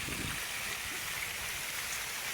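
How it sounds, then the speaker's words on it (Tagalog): Water splashes steadily in the Balayong fountain in a city park in Puerto Princesa, Palawan, a constant hiss of falling droplets, fairly faint and even, with no voices. "Fountain pala."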